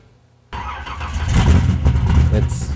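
A 1970 Pontiac Trans Am V8 with high compression and a decent-sized cam roars to life after a moment of quiet, then rumbles loudly and unevenly nearby, rising as it revs.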